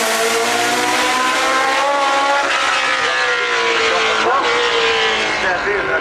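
A Hesketh 308 Formula 1 race car drives by at a festival event, its engine loud and screaming with shifting pitch throughout, under a commentator's talk.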